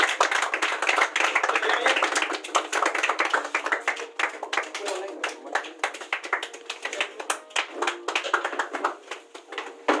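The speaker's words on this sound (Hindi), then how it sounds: "इनके लिए जोरदार तालियां।" An audience claps for a guest called onto a stage at an event, a dense, sustained crowd of hand claps with uneven rhythm, loud and close throughout, with faint voices mixed in.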